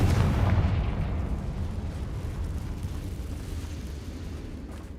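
A fire spell in the Hogwarts Legacy video game bursts in an explosion, a heavy booming blast at the start that trails off into a long rumbling fiery roar.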